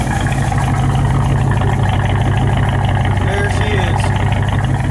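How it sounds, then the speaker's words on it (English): A 1967 Chevrolet Impala engine runs without headers or mufflers, giving a loud, steady, throbbing rumble that holds unbroken throughout, with a brief spoken line over it. "That's what your car sounds like without the headers or mufflers on it."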